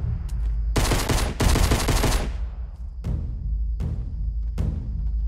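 Gunfire in the battle royale game Fortnite: a loud close burst of rapid automatic fire, then three separate heavy single shots spaced about a second apart, each with a short ringing tail, and no voices.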